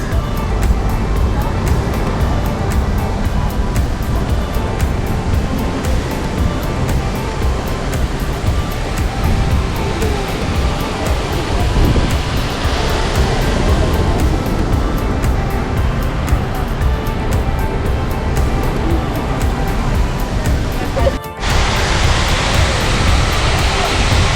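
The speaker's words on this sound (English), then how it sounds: "I'll just go near the fountains." The fountains in Trafalgar Square, London, give a continuous broad rush of splashing water close by, steady throughout, with city traffic blended beneath and a brief change near the end.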